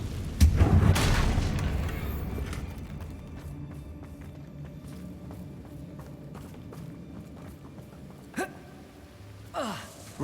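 The Confringo blast spell in Hogwarts Legacy sets off a loud explosive boom at the start, followed by rumbling debris and scattered impacts fading down, with a couple of sharp whooshing bursts near the end.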